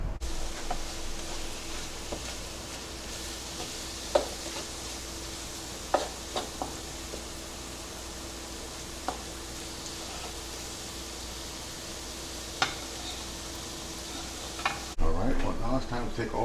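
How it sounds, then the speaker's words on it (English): Vegetables sauté in about three tablespoons of butter with onion and garlic for a green spaghetti sauce, giving a steady, soft sizzle broken by occasional sharp clicks of stirring. "I'm gonna saute this along with my onion and my garlic"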